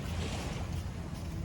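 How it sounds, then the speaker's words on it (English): Steady wash of moving water with surf and wind on a beach at Barrio Barretto in the evening, near a river mouth, broadband and continuous without voices. "That's the river, baby."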